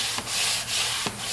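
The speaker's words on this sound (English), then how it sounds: "And like I say, I just use a sanding sponge." A sanding sponge scrubbing cabinet wood in a shop: three quick close rubbing strokes, dry and rasping, with no voices.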